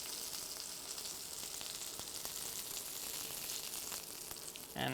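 A steak sears in a hot pan after sous vide cooking, giving a steady, close sizzling hiss that runs without a break and without speech.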